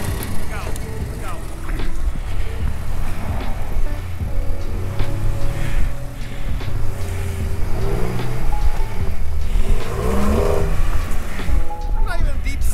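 Car wheels spin on slick snow with a loud continuous engine roar and whine close by, while people talk over it throughout.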